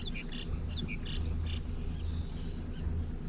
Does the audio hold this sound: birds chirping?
yes